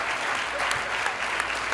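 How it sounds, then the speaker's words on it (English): An audience claps steadily for Allison Haddon at a TEDx event at Grand Canyon University, a dense, even wash of applause lasting the whole moment with no voices on top. "Another round of applause for Allison Haddon"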